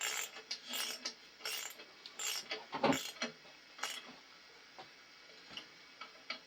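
Socket wrench ratcheting on a rusted bolt on a 1953 Super C, a quiet run of rapid clicking ticks in short bursts with a few louder metallic knocks in the middle.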